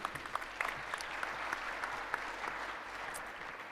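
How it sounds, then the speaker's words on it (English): A conference audience at a radio and audio industry summit applauds, a steady wash of many hands clapping for nearly four seconds, moderately distant and even throughout. "Round of applause for Charles."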